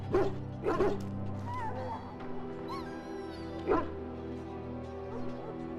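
Dog whimpering and yipping in Dragon Age: Origins, a few soft whines in short bursts over steady game music and ambience, with a brief louder yelp near the middle.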